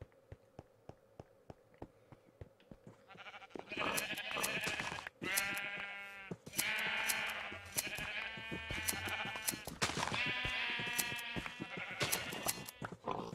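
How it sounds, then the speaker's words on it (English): Sheep in the Minecraft video game bleat repeatedly in loud, overlapping bursts, set against a run of small rhythmic taps, with no talk. "Come on, I need the white sheep."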